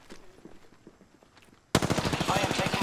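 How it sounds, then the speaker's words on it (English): Automatic gunfire in Apex Legends, a rapid burst of loud shots erupting suddenly after quieter shuffling and footstep-like game sounds, continuing densely to the end. "Opening fire on the enemy."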